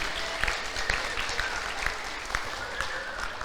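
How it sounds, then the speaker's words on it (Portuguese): Church congregation applause during a worship service, continuous clapping with a few sharper individual claps and cheers standing out, and some voices underneath. "Aplauda, igreja, nossos irmãos queridos aqui"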